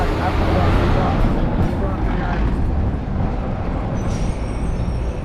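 City bus with air brakes on a street in Xalapa, Mexico: a loud, close, steady rumble of engine and traffic noise filling the whole stretch, with no distinct brake hiss standing out.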